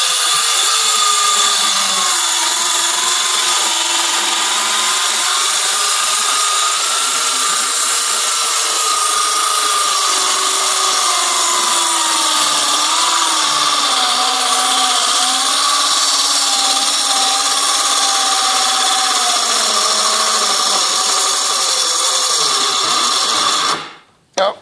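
A corded-style power tool runs on an 18 volt cordless battery pack, whining steadily with a wavering pitch that sags and drifts for over twenty seconds before cutting off abruptly.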